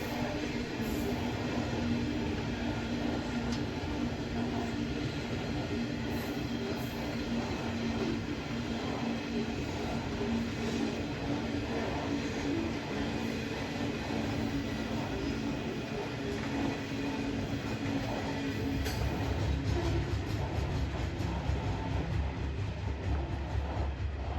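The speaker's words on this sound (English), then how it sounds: "a Southern Short-Haul Railroad empty coal train is seen passing through heading northwards, while a Sydney train's suburban set pulls into the station with commuters" An empty Southern Short-Haul Railroad coal train rolls through northbound while a Sydney suburban passenger set pulls into a Hunter Valley station, producing a steady, loud rumble of wheels and rail noise that continues throughout without talk.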